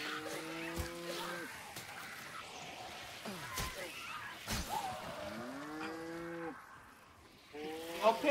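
Repeated close, loud cow moos in the game Hunt: Showdown 1896, several long bellowing calls spaced across the clip, with sharp game impacts and faint talk in between.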